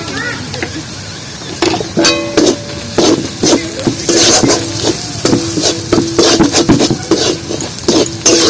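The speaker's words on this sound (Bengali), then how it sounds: "মশলাগুলো সব কষে নিয়েছি" Spices with Kashmiri chili powder and garam masala being sautéed in a pan for a taro-stem dish, with repeated metal spatula clanks and scrapes over a sizzle, loud and close, starting after a quieter opening.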